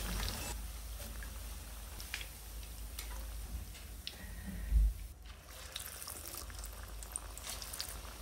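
Onion pakoras half-frying in hot oil give a continuous bubbling sizzle with light ticking pops, heard close throughout.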